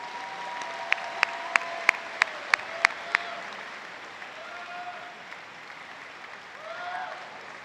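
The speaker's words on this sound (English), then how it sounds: "Let's have a big round of applause for the Lumpkin College graduates." A university commencement crowd applauds graduates: a few sharp, loud claps stand out in a quick series at first, over a broad wash of clapping that then settles into a softer, sustained patter.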